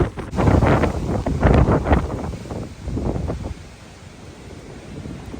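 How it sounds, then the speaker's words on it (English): Strong winter wind gusting outdoors in town, heavy buffeting blasts hitting the microphone in surges that ease off toward the end. "It's very, very windy."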